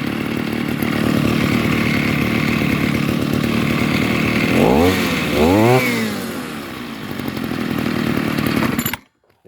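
A small mini bike engine runs with a buzzy, saw-like drone, dips and swoops in pitch twice as it bogs down, recovers briefly, then stalls and cuts to silence.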